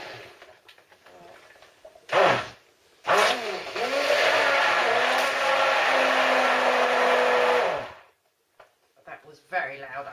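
A blender motor whirs loudly and steadily, breaking up coconut pieces in coconut cream for soap making, for about five seconds after a brief first burst, then cuts off into quiet.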